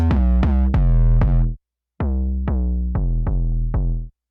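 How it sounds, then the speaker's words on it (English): A music producer's main bass for a hard-hitting boy-group track, played dry with no plugins: two phrases of loud, plucked bass notes, four then five, each attack decaying, with a short silent gap between them. "it actually sounds like this without the plugins."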